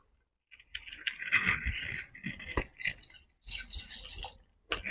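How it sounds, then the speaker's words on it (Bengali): Water poured into a pot of browned, well-fried mutton for biryani, with splashing, dripping and sizzling that come in bursts close by. The pouring pauses between them. "মাংসের মধ্যে এবার আমি জল দিয়ে দেবো।"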